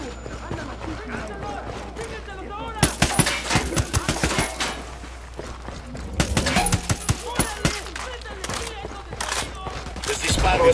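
Bursts of automatic gunfire in Tom Clancy's Ghost Recon Wildlands, sharp rapid volleys clustered in several loud runs with quieter gaps, while characters talk in Spanish between and under the shots.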